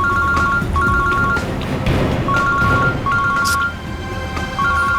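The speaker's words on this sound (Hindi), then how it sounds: "अभी तो फोन कट गया, लेकिन फिर आएगा फोन।" A telephone ringtone repeats in regular short electronic bursts inside a crime drama scene, sounding steadily over a busy background with no speech.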